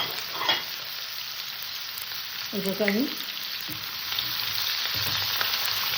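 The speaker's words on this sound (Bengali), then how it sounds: "সুন্দর করে ফ্রাই করে নেবো" Potato and carrot frying in oil with five-spice, a steady close sizzle with a brief scraping stir midway, while a voice speaks briefly over it.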